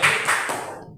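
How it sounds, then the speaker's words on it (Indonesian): A short burst of hand clapping from a classroom group, loud at first and quickly fading out within a second. "Tepuk tangan buat teman kita."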